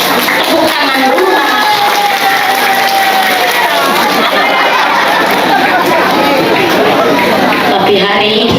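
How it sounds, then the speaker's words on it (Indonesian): A crowd at a religious study gathering claps and chatters in a dense, loud, continuous wash of applause mixed with voices that lasts the whole stretch. "Tepuk tangan dulu."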